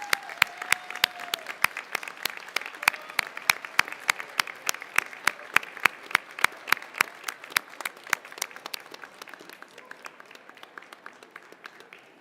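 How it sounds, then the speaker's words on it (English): A commencement ceremony crowd gives a sparse, echoing round of applause in a large hall, individual claps audible and thinning out toward the end, moderately distant. "let's thank them with a round of applause"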